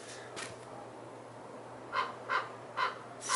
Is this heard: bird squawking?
yes